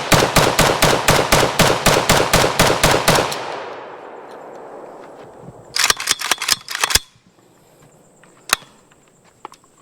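An RPK74 light machine gun fires a rapid burst of about fifteen loud, evenly spaced shots that ring out and decay, followed by a few quicker sharp bangs and one last isolated report.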